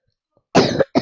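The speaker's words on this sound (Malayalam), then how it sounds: "എനിക്ക് പനിയാണ് ഗൈസ്, അതുകൊണ്ട് ഇടയ്ക്കിടയ്ക്ക് ചുമക്കുന്നത്." A person with a fever coughs close to the microphone, one harsh cough followed by a brief second one, with near silence before them.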